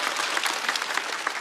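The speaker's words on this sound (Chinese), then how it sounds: "再次掌声送给 Kid" Studio audience at a stand-up comedy show applauding comedian Kid, a dense, steady burst of clapping with a few sharper claps standing out, close and fairly loud.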